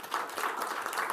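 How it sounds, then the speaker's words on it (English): Audience applause at a school district board meeting, a short, steady patter of many hands clapping at moderate level with no talk over it. "That deserves some applause."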